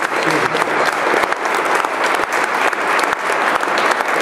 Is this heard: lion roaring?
no